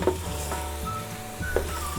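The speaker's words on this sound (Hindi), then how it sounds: "ब्राउन गोश्त को मैंने फ्राई कर रही हूँ" Browned meat for a chicken achari handi sizzling and frying in a pan at home, a close, steady crackle with brief clinks of a utensil stirring against the pan.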